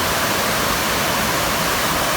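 Large waterfall tumbling into a chilly pool in Nepal, an even, dense hiss of falling water filling the space, loud and continuous with nobody talking.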